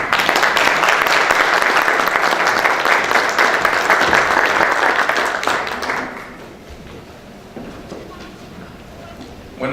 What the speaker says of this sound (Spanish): Les pido lo recibamos con un fuerte aplauso.